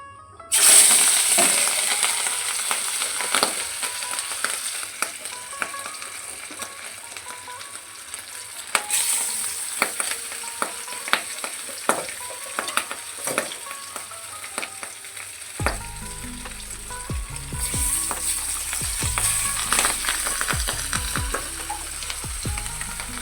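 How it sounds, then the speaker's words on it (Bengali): Fish sizzles and spits steadily in hot oil, a close, continuous frying crackle with scattered sharp pops and occasional utensil clinks. "তো চলো মাছগুলো দিয়ে নে মাছ আবার ফোটে তেলে দিলে"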